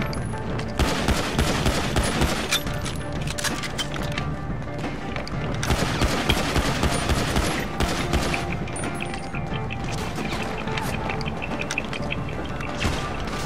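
Dense, nonstop gunfire in GTA V Online on PS4, loud and close, with overlapping shots and impacts forming a continuous barrage.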